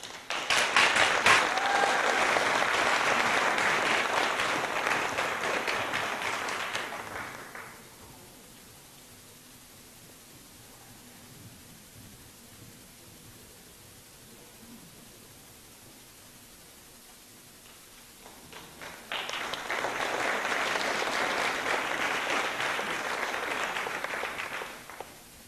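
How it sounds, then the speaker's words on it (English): Audience applause after an award acceptance at a Pride in Millville 2024 event, two loud bursts of clapping from a crowd separated by a quieter stretch of room noise. "I wasn't asking for a clap."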